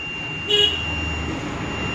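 A multimeter set to its diode/continuity buzzer range beeps on a shorted battery connector of a vivo Y31 phone, one short high electronic tone followed by a steady faint hum with no voice.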